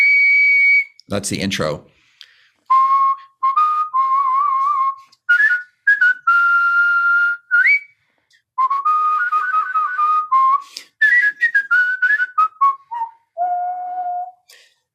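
A person whistles a Happy Birthday melody in clear, bright phrases of sustained and warbling notes with short pauses between them. A brief burst of talk and a thump break in near the start.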